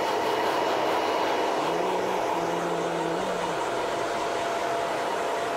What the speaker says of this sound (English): So, blow drying hot first.